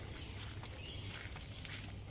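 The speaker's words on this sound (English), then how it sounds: "A fair bit of rain here." Steady rain falls on a rural property in Central Queensland during a day of non-stop wet weather, a continuous broad patter with scattered louder drops, close and even throughout, with no voices.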